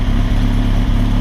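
Suzuki GSX-R1000 K7 sport bike engine idling after a leaner fuel tune, a steady low rumbling idle heard close up and alone for a moment.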